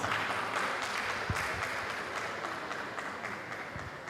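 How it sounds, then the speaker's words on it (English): An audience applauding election candidates at a manifesto day event, a soft, steady wash of clapping heard from some distance, with a few sharper claps standing out. "Please give them a round of applause."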